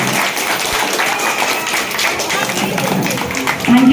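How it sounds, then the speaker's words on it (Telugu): An audience claps together at a Ganesh Chaturthi celebration, a dense, steady patter of many hands that fills the whole stretch at close range. "please do clap for them"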